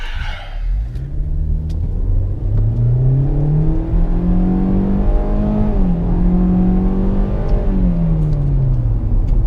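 A 2021 Hyundai Elantra SEL with a CVT revs up under hard acceleration in sport mode, its pitch climbing steadily and then dipping briefly at a shift, loud and close with a constant rumble.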